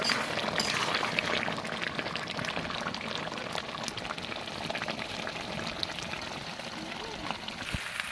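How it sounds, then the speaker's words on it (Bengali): Spicy mutton braises in a pot with a low, continuous bubbling sizzle, and faint scraping of stirring sits close under a steady wash of cooking noise. "এখন নেড়ে চেড়ে এভাবেই কষিয়ে নেব"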